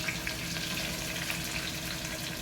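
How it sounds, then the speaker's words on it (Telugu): Onion, green chillies and mint fry in hot oil for Telangana boti curry, giving a steady, fairly quiet hiss and sizzle with no voices. "నూనెలోనే కొంచెం అల్లం వెల్లిగడ్డ పేస్ట్ కూడా వేసి వేపుకోవాలి"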